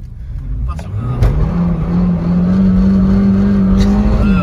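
A Peugeot 206 S16 engine revving hard toward its rev limiter, a loud, close, sustained engine drone that climbs and then holds a high, steady pitch, with voices talking over it.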